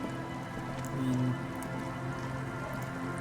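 Steady rain falls across a dreary, dark city scene in the video game Disco Elysium, a continuous even patter with soft droplet detail that swells briefly near the middle and runs without voices.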